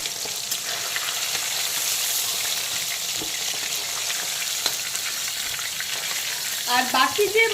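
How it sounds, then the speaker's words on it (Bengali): Rohu fish pieces coated in salt and turmeric fry in oil, giving a constant close sizzle and crackle, with a brief clattering handling noise near the end. "বাকি যে মাছের পিসগুলো রয়েছে লবণ আর হলুদ মাখানো, সেগুলোকেও আমি একইভাবে এখন ভেজে নেব"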